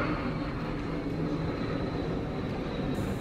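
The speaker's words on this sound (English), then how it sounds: "I don't know if you can hear that plane, but like she was zooming." Airplane passing outside a home, a faint, steady, distant rumble of engine noise with no talking.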